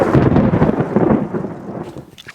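Thunder rumbles through a rain shower in Sweden, a dense, close roll of low noise with rain hiss on top that slowly fades out over a couple of seconds.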